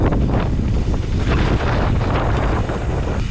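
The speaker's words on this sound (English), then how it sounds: "A little bit windy today." Strong wind buffets a microphone on a mountain bike track at Fort William, a loud continuous roaring rumble that stays heavy and unbroken throughout, close and harsh.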